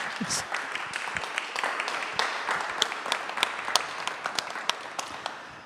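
A parish talent event audience applauds, scattered claps building into a few sharp, distinct hand strikes over a low murmur, moderately loud and sustained throughout.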